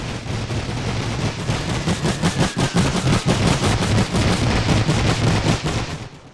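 Rapid machine-gun bursts and rifle fire in the World War I video game The Great War 6.0, with an Austro-Hungarian side, form a continuous crackling barrage of sharp shots that stays loud and steady throughout, with no talk.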